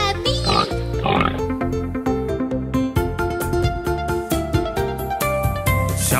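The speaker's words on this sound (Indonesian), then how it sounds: "Itu babi." A pig oinks repeatedly in a preschool children's song about animal sounds, its grunts set against a bouncy, loud musical backing with a singing voice.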